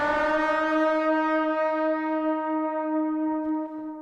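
Sustained electric guitar lead notes from a worship song ring out with strong harmonics, played alone and slowly fading across the phrase.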